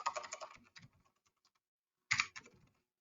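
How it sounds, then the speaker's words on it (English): Someone types a web address on a computer keyboard in two quick bursts of clicking keystrokes, close and clear, separated by a short pause. "So I can just type in our web address here."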